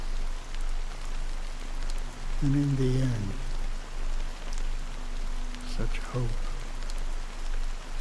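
Steady rain falls in Honkai: Star Rail, a constant soft hiss and patter throughout at moderate loudness, with a voice speaking over it.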